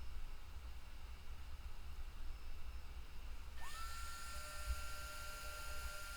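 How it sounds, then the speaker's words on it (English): A drill bores pinholes for 3/16 inch mosaic pins in a black palm knife handle with a red liner, a steady whine that rises in pitch partway through over a constant low hum. "right now all that is going on is just drilling some pinholes in"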